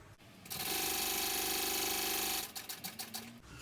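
A sewing machine runs steadily for about two seconds, stitching a Sue Sue baby sling along a 1/8-inch seam, then stops and gives a few short clicks and taps.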